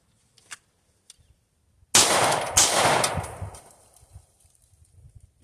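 A handgun is drawn from a Versacarry Compound Custom Kydex holster and fired from a seated position inside a car. Two sharp, very loud reports land close together and ring on in the enclosed cabin before fading to quiet.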